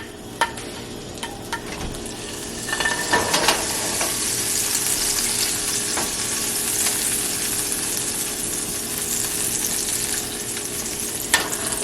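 Butter and pancake batter sizzling in a hot pan, a steady broadband fry with occasional small clicks and pops, close and fairly loud, no talking.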